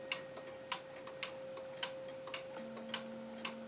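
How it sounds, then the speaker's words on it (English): Several chiming wall clocks tick together indoors, their crisp ticks overlapping in a steady, slightly uneven rhythm over a low constant hum. Quiet and close, with no voices. "there's all my chiming wall clocks."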